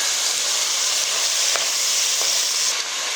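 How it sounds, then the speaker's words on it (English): Prawns seasoned with rock salt, lemon pepper, chili garlic paste and paprika frying in a pan on high heat, a loud continuous sizzle with a few sharp crackles, close and unbroken by speech. "We're going to cook this until the prawns have slightly reduced in size"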